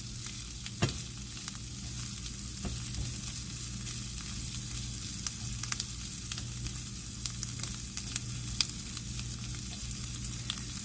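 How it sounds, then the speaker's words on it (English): Asparagus simmering in butter and garlic in a pan gives a continuous, lively sizzle with frequent small pops and occasional clicks, up close and steady, with no voices. "I'm going to just let these simmer in this butter and garlic for about 3 minutes"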